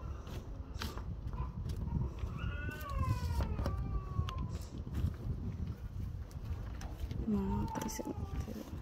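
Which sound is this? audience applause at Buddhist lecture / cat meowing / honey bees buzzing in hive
cat meowing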